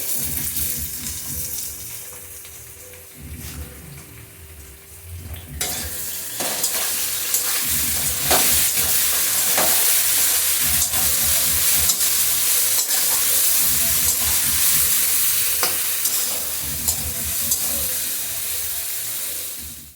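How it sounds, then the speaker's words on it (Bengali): Raw papaya tossed with turmeric and other spices in a hot pan for a vegetarian papaya-and-dal dish, a steady loud sizzle broken by repeated scraping stirs that grows fuller partway through, with no voices. "সাথে পেঁপেটা ভালোভাবে কষিয়ে নিলাম"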